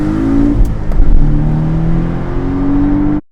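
A four-cylinder engine of a 2018 Porsche 718 Boxster revs loudly and steadily up close, holding a strong drone before cutting off abruptly at the end.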